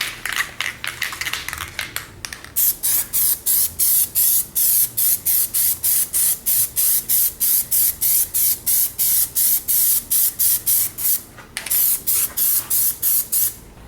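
Plasti Dip rubber coating sprayed from an aerosol can onto a motorcycle part as a second coat, in a long run of short, even hissing bursts with brief gaps, close and loud, with no talking.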